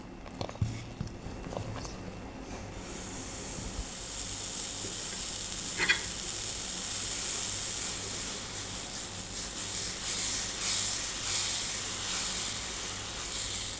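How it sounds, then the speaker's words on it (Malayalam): Dosa batter sizzles and hisses steadily on a hot griddle for a ghee roast, a constant close frying crackle with a few soft clicks and knocks near the start. "ഇനി നമുക്ക് ദോശക്കല്ലിൽ ഒഴിച്ച് ഉണ്ടാക്കാം"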